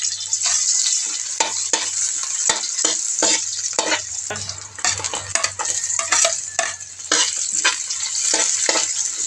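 Garlic sautéing in a frying pan with ginger for a laing dish, a steady bright sizzle punctuated by repeated scraping stirs of a utensil against the pan, close and continuous.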